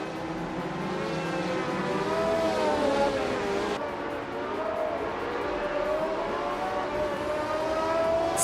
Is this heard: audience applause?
no